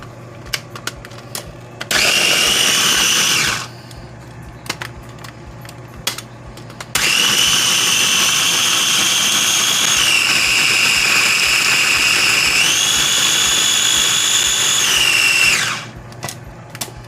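A small food processor whirs loudly in two bursts, a short one and then a longer run of grinding, with quiet pauses around them.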